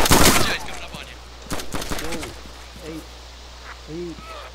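Gunfire in the DayZ video game opens with a loud burst of shots, followed by a few scattered sharp cracks. A voice speaks briefly between the shots.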